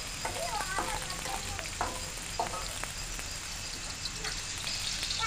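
Ingredients for chutney fry in oil in a pan with a steady sizzle, punctuated by ladle stirs and scraping clicks at an even pace, close by.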